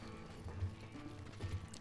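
Horse hooves clip-clopping in the Western video game Call of Juarez: Gunslinger, a quiet, low-level stream of soft thuds with two slightly stronger beats amid faint background game ambience.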